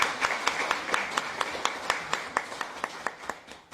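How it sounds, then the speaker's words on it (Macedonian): Audience applause at a medical talk on atopic dermatitis, thanking the Bela Farm team: a steady run of sharp, fairly close claps in a roughly even rhythm for almost four seconds, with faint room murmur beneath. "Еден аплауз за Бела Фарм."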